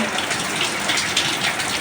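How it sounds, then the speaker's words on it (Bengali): Heavy rain falls in a steady, dense hiss, loud and close, with brief surges in intensity and no voices over it. "এমনিতেই যে বৃষ্টি হইতেছে কয়দিন ধরে"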